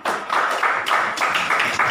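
A small group clapping in a classroom, with short bursts of applause that come in several quick rhythmic rounds with brief pauses between them, close and fairly loud.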